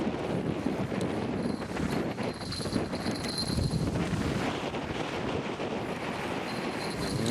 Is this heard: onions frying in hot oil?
no